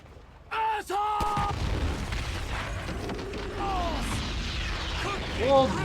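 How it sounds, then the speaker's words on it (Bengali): An explosion in GTA 5 gameplay: a sudden loud boom after a short burst of voices, then a sustained low rumble with in-game voices and mechanical sounds continuing underneath. "সেই একটা ব্লাস্ট হয়েছে এখানে"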